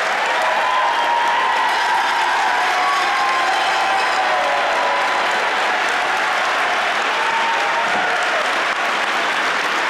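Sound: audience applauding parents

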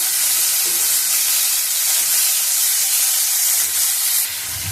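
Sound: shrimp frying in hot oil

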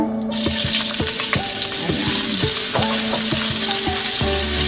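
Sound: ginger frying in hot oil

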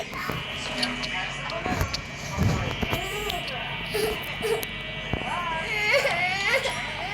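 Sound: younger sibling crying in the background

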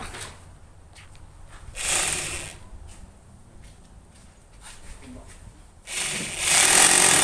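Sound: power drill drilling into a house pillar

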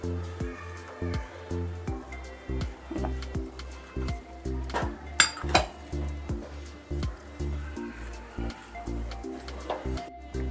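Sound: stirring ragi soup in a pot

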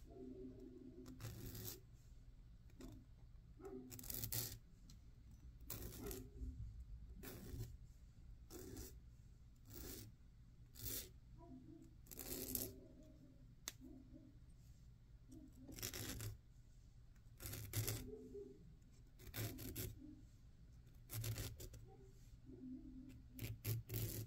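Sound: jeweler's file filing wire end

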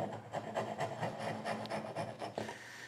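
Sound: rasp filing wood to open a hole

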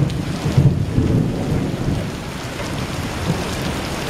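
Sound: distant thunder during severe storm with rain and hail

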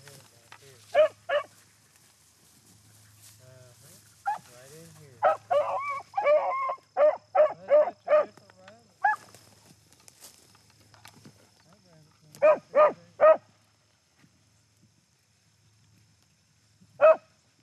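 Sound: beagles barking while trailing a rabbit

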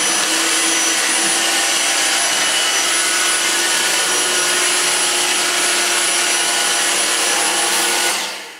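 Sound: Dyson V6 cordless vacuum cleaner on carpet

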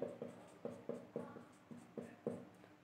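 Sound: writing a chemical equation on a board

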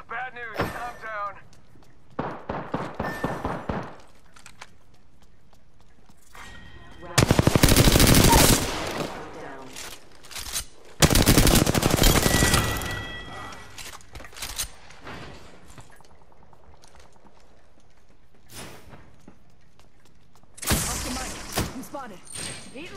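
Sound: gunfire from video game Apex Legends, R-301 rifle

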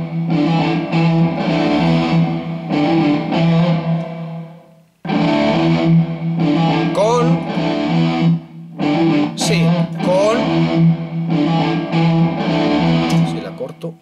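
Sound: electric guitar with Reverb Stadium plugin effect

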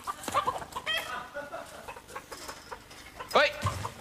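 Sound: chickens clucking while being chased

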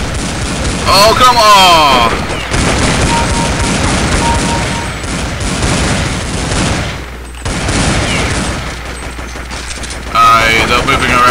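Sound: gunfire in Counter-Strike 1.6 video game

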